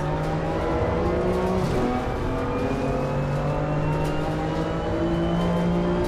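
Race car engines in a racing video game, heard from the cockpit: a steady high engine whine that drops and climbs again through gear changes, continuous and close, with another car faintly nearby.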